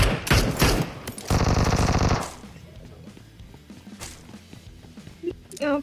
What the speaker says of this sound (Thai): ยิงใครวะ